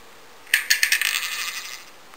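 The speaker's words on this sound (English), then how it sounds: "That's the red key dropping." A red key falls from a shaken chandelier in the Antrim Escape video game, giving a bright metallic clatter of several quick clinks that tumble on and settle over about a second and a half.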